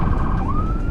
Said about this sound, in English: sirens blaring, with no sign of stopping